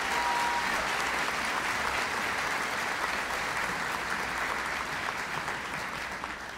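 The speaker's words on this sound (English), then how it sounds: "Let's give them a big round of applause" Sustained, dense applause from a large audience at a high school graduation ceremony, steady and loud throughout before tapering slightly at the end.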